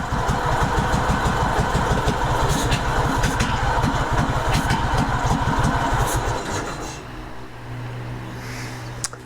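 A Kohler Command engine on a Craftsman GT5000 riding mower runs with a steady, throbbing idle and an ignition fault, then drops off around six seconds into a lower, uneven running note, close and loud.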